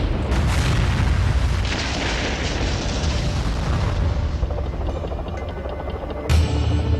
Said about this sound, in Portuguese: Ele presencia outro tiroteio seguido de 2 grandes explosões.